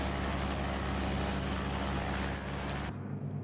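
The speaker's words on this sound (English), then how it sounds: "Ignore the engine noise, it doesn't sound like that normally." A light aircraft engine drones loudly and steadily during a climb on a long-distance memorial flight from Singapore toward Java, then the noise drops off abruptly near the end.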